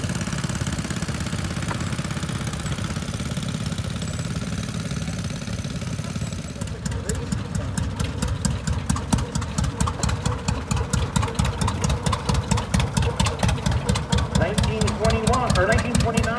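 A 1941 John Deere Model B tractor rolling past in a tractor parade, its engine droning low then shifting into a loud, evenly spaced two-cylinder chugging as it nears, with an announcer speaking over it.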